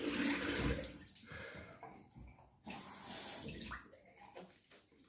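Water runs from a tap in a steady, moderately quiet hiss that breaks off briefly and resumes, with small splashes and handling noises around the flow.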